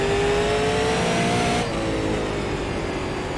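A Super Late Model race car engine in iRacing runs at Lanier National Speedway as a loud, steady high-pitched drone whose pitch climbs and then drops, with no voices.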